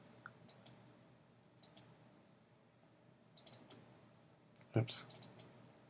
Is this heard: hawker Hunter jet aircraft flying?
no